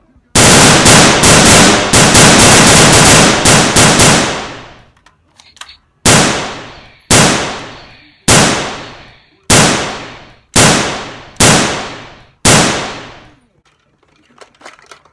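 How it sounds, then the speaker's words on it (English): Video game gunfire from a P99 pistol: a loud sustained burst of rapid shots, then seven single sharp shots spaced about a second apart, each ringing out and decaying. "I always wanted to shoot a P99 before."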